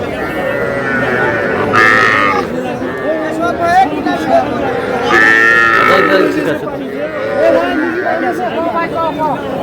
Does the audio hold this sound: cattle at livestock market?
yes